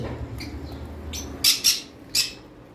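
Green Fischer's lovebirds give a few short, sharp squawking calls, three or four bursts close by, over a low background hum.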